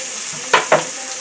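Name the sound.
onions and green chillies frying in a pan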